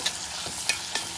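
Onions sautéing in a pan for drumstick greens sambar give a steady broadband sizzle, with a few brief stirring scrapes and clinks of the spatula against the pan, fairly close and alone.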